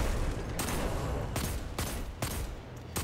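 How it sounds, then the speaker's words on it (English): Better Devils hand cannon shots fire in Destiny 2, about four or five sharp, loud reports spaced irregularly over a few seconds, with no speech. "This hand cannon I'm using, it's called Better Devils."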